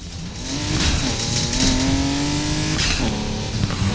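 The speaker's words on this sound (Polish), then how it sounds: "O, wolniutkie to auto jest." An engine in the Need for Speed Heat racing game revs and climbs through gears, a loud close whine rising and dropping with shifts, with a brief tire squeal.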